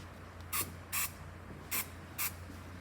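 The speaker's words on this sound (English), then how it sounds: "Sometimes I'll just spray the rag to get this developer or to get this dye off of it." Four short spritzes of cleaner from a spray bottle onto a rag, used to wipe weld test dye, evenly spaced in two pairs, crisp and close in an otherwise quiet room.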